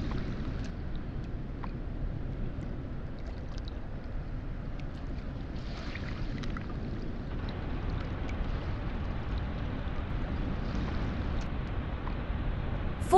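The ship RMS Titanic under way on sea trials off Belfast in 1912, a steady low rumbling wash of engine and water with wind noise, continuous and even throughout, no voices.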